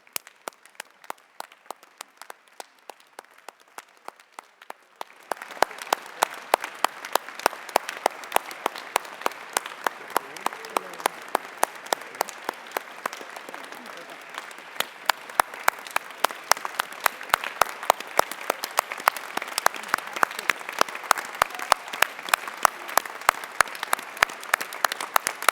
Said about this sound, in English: A great applause to all these people.